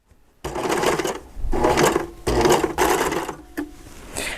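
An overlock serger runs in several close, loud bursts of rapid mechanical stitching along a fabric fold, with short pauses between runs and no talk.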